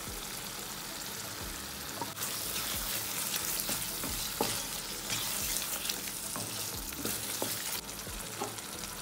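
Mixed vegetables fried and stirred together in a pan give a continuous loud sizzle with repeated scraping and clinking stir strokes throughout, no one speaking.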